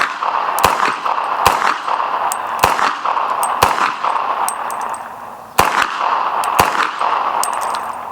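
Repeated sharp gunshots ring out across an outdoor range during a 1000-round ammunition test, each crack followed by a bright metallic clang from a steel target down range, about ten shots spaced irregularly over steady background noise.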